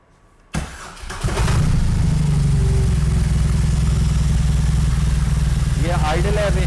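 A 2022 BMW R18 B Cruiser motorcycle cranks briefly and its boxer engine catches, rising into a loud, deep, steady rumble close by, with a faint voice near the end.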